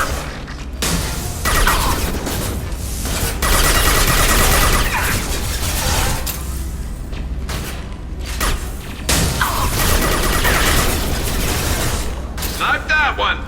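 Firefight gunfire in the video game Mass Effect 2, bursts of rapid weapon fire and thumping impacts in repeated volleys, loud and close, with combat voices shouting between them.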